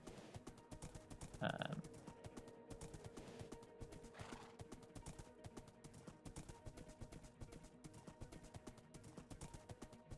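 Horse hooves clop in Minecraft with a brief whinny near the start, over a steady ambient background hum, with no talking.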